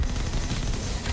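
Brief, rapid burst of machine gun fire in the video game Mullet Mad Jack, a dense rattling stream of shots lasting about a second, fairly quiet.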